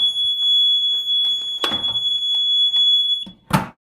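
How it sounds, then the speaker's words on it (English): An AED cabinet alarm emits a loud, steady high-pitched electronic tone when its door is opened, with brief clunks and rustles of the door and handling, cutting off near the end after a sharp knock. "Oftentimes there will be a loud alarm associated with it."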